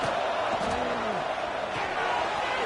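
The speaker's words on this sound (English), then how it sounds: "Listen to this crowd noise. This stadium is vibrating." Stadium crowd roar in the College Football 26 video game during a Florida at Auburn matchup, a dense sustained wall of cheering with a brief whistle-like rise, loud and continuous.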